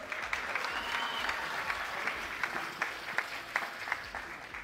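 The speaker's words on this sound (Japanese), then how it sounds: "大きな拍手をお願いします。" A crowd at an amateur executive fight event in a ring applauds after the bout, with continuous dense clapping and a few sharper individual claps standing out near the front.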